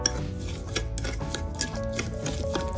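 Sugar body scrub made with cucumber and olive oil being stirred in a bowl, a continuous close gritty scraping with light clinks of the utensil against the container, no talking.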